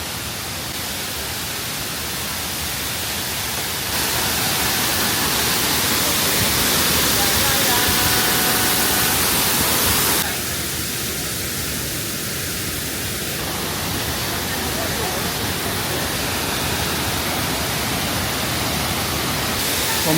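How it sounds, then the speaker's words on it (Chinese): Detian waterfall on the China–Vietnam border, 208 m wide and 66 m high and swollen in the rainy season, roars up close as a loud, dense, unbroken rush of water lasting a long stretch. "这个离瀑布更近了。"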